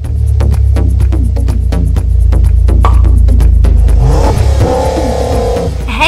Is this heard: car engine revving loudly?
yes